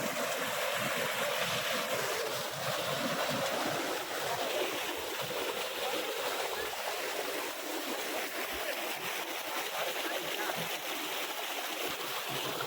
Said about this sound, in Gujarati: જો મિત્રો અહીંયા પાણી જઈ રહ્યું છે